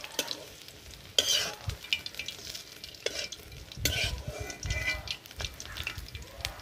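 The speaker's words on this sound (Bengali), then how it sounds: "তেলে আলু দিয়ে দিলাম।" Potatoes go into hot oil and fry with a crackling sizzle, with sharp spits and stirring clatters breaking through at intervals, close by and fairly quiet.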